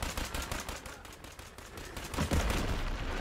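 Rapid gunfire from shooting zombies in the video game State of Decay 2, a dense, continuous stream of shots at steady loudness, swelling slightly heavier toward the end, with no talk over it.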